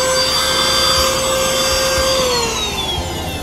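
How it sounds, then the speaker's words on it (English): Small portable car vacuum cleaner running steadily inside a new car, a continuous whirring motor drone with a high whine that dips slightly in pitch, fairly close and loud, with no speech. "I pushed the on button and this is where it vacuums from."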